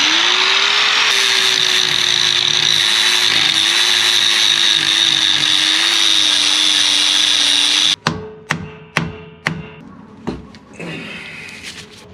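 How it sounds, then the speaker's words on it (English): A mushroomed drain plug on an 8-inch Toyota differential is ground down with a power grinder, a loud continuous whine for about eight seconds, then several short bursts of grinding that cut in and out. "just grind that down a little bit so we can fit the socket back in there"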